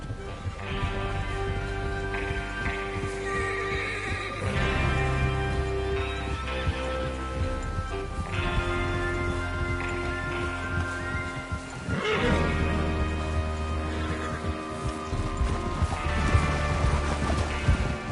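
Horses ride out in Red Dead Redemption 2, hooves clip-clopping under repeated neighs and whinnies, with a musical score playing beneath as the group heads off.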